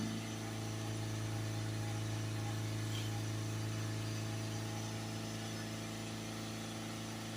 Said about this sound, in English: Accelerate it up full.